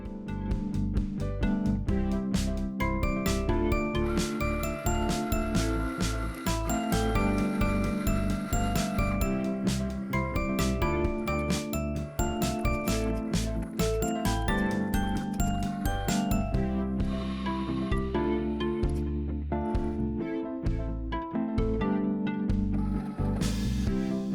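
A Cricut cutting machine cuts card pieces at extra pressure, giving a steady, close mechanical whir with rapid ratcheting clicks and knocks that run without pause throughout, fairly loud and with no talk.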